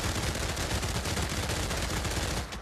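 Sustained machine gun fire in the VR shooter game Pavlov VR, a dense, continuous rattle of rapid shots holding steady and loud for the whole stretch before cutting off at the end.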